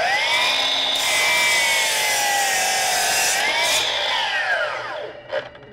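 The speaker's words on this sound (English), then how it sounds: "the first thing we're gonna do is just cut through this 4x6 here, just a pressure treated 4x6" A Milwaukee 12-inch miter saw slices through a pressure-treated 4x6, one loud, steady cutting whine lasting about five seconds before spinning down, heard up close with no talking.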